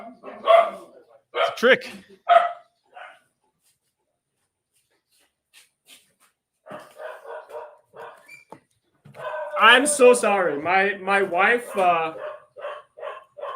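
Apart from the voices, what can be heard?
dogs barking at package delivery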